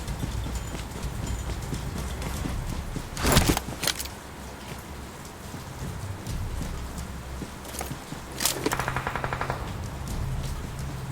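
Gunfire in PUBG Mobile played on an iPad Pro 2018, two short loud bursts of rapid shots a few seconds apart over a steady background of in-game ambience and footsteps.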